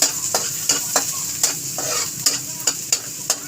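Garlic and onion get stirred in a frying pan for chicken liver and gizzard adobo, a spatula scraping in about nine quick, uneven strokes over a soft, close sizzle.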